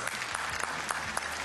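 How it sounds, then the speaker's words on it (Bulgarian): A studio audience on a Bulgarian TV game show applauds a contestant being introduced, with loud, dense clapping from many hands that stays steady across the short moment. "Аплодисменти и за четвъртият играч в днешния епизод."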